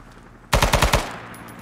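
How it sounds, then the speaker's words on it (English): A fast burst of about six gunshots in quick succession during a military-style team operation, loud and sharp with a short decaying tail. "Hey, stop shooting me"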